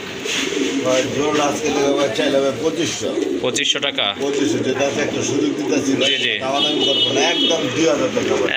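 A pair of pigeons coos steadily throughout, sitting under ongoing conversation between people bargaining nearby.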